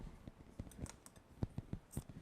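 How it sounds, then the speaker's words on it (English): Scissors cut fabric off a tie in a quick run of close, quiet snips and clicks, alone with no talking. "Let me cut some of this off because these are kind of long."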